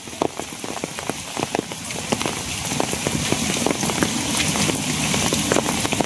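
Rain falling on a surface, with close, irregular drops and patters over a steady roar of rainfall that grows slightly fuller toward the end, no voices.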